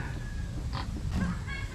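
A few short grunts and snorts from native wild boars with small piglets in an unpaved, muddy farm enclosure, heard close against a constant outdoor hum.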